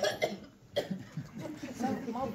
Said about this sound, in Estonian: mida sa köhid siin kõik see aeg